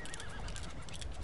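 Horses in Red Dead Redemption II give a brief, fairly loud whinny with hoof clip-clop over dense in-game background noise.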